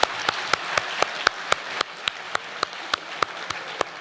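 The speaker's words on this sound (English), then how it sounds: "if we could all just join me in a big round of applause for our 3 fantastic speakers" A panel audience gives a round of applause for three speakers, sparse sharp claps in a fairly regular rhythm, moderately quiet, with no talk over them.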